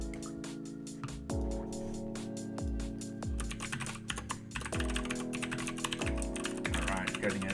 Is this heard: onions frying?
no